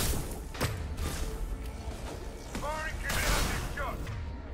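Flashbang grenade going off amid a firefight in Mass Effect 2, sharp cracks and thuds of gunfire and a bright bursting bang near the end, with someone talking over the action.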